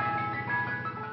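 An ice cream truck jingle plays a bright, tinkling melody, loud and close throughout, with no talk.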